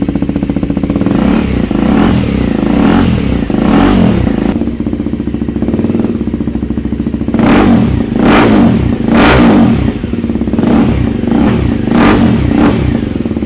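A Kawasaki ZX6R motorcycle with a decat exhaust revs loudly and close, its steady idle broken by a series of sharp throttle blips that swell and fall in quick succession.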